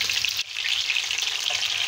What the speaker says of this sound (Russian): Яйца жарятся вообще очень быстро